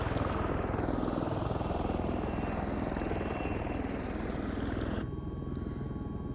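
A V-22 Osprey tiltrotor hovers in a flight simulator game, a loud continuous rotor drone with fast, even blade chop that holds steady and drops slightly in level near the end.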